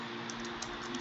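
Keys tapped on a computer keyboard while laying out a web design in Figma, a steady run of quick light clicks close to the mic over a faint background hum, with no talking.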